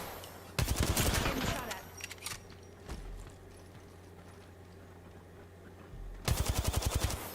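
Rapid automatic gunfire in a ranked online shooter match, with two loud sharp bursts at the start and end, a few isolated shots in between, and a quieter hum under the gaps.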